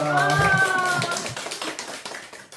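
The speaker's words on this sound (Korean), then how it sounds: "지금부터 애설미 콘서트 큰 박수로 시작하겠습니다" An audience at a Korean church concert breaks into applause at the opening, with a voice speaking over the start and then sharp, scattered claps that thin out toward the end.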